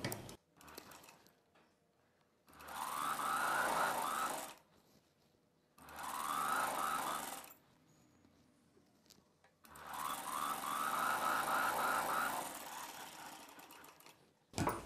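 A sewing machine stitches a seam on a boat neck dress in three sustained runs of rapid needle clatter, each a few seconds long, separated by short quiet pauses, close and clear with no talking.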